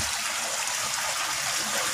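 Water pours steadily from the outlet of a DIY bucket filter into a koi pond, a close, continuous splashing hiss with no voices.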